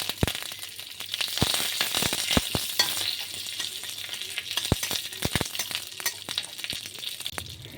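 Black mustard seeds and curry leaves sizzle in hot oil for a South Indian style matar dal. The frying hiss is steady and close, broken by sharp pops and crackles as seeds burst.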